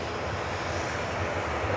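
A TUI airliner taking off from Manchester Airport for Heraklion, heard as a steady, distant broadband engine roar with a low rumble, no voices.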